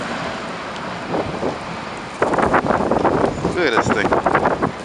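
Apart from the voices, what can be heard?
strong wind during snowstorm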